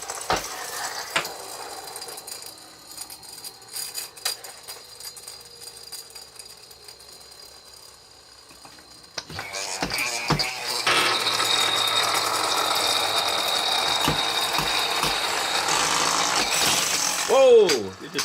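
A vintage Wizzzer spinning top whirs on a hard surface, a steady buzzing drone after a rough start with scattered clicks, ending in a rising whine as it spins down.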